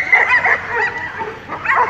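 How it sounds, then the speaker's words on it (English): Several dogs bark and yip excitedly, close and loud, in quick overlapping bursts while waiting at a lure exercise device. "they start barking away too,"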